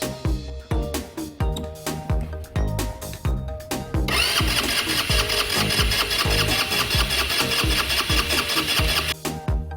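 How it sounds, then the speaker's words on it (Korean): A fuel-injected 125cc scooter engine that would not start, tested with its fuel pump outside the tank, cranks repeatedly in a chugging rhythm, then catches and runs with a loud, steady idle before briefly cutting out near the end. "이 상태에서 자, 시동 한번 걸어보세요"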